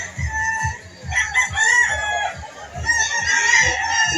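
Roosters and chickens at a Lipa City poultry market in Batangas, with crowing and clucking birds sounding close and loud over a busy crowded background, several calls overlapping throughout.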